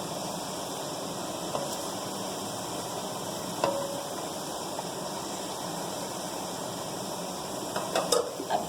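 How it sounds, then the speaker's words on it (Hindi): Capsicum and mixed vegetables for chicken chowmein are stirred in a hot pan, giving a steady sizzling hiss with a few soft clinks of the spoon against the metal. "इसे मिक्स कर लेते हैं पहले शिमला मिर्च को। और इसे पकने देते हैं 1-2 मिनट।"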